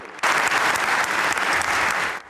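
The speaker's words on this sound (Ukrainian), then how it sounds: "Врешті понад півгодинна промова українського лідера дістає оплески" At a forum opening, an audience claps after the Ukrainian president's half-hour speech: a sudden onset of loud, dense applause that holds steady for about two seconds, then cuts off.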